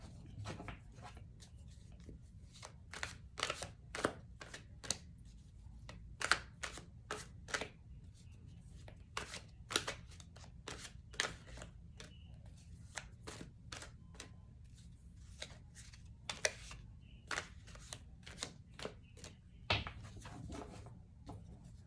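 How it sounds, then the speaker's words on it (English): Tarot cards shuffled again and again in a quiet room, a run of crisp riffling bursts and soft slaps with brief pauses between them, close and fairly faint, with no talking. "One more shuffle."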